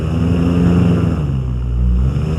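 The engine of an ultralight trike (moto du ciel) accelerates before takeoff, a loud, steady low droning roar that holds close and strong throughout, with no talk over it.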